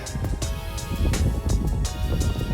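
Wind gusting across an outdoor house build site, a steady low rumble and buffeting against the microphone that swells and eases.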